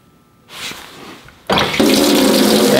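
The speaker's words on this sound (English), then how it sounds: "So we turn the water back on." Water rushes back through household plumbing after a Flo by Moen smart shutoff valve is reopened, starting as a soft hiss, then surging into a loud, steady flow that continues to the end.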